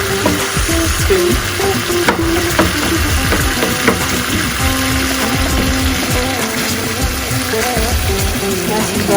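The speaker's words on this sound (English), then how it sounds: "I'm going to stir fry this until it's totally dry" A chicken mixture stir-fries in a pan, sizzling steadily while a spoon scrapes and mashes it in frequent close, clattering strokes.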